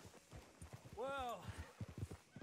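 Horse hooves clip-clopping at a riding pace in Red Dead Redemption 2, a steady run of soft low thuds under a man's speech, with a horse's whinny rising briefly in the middle.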